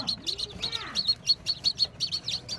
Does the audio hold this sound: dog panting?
no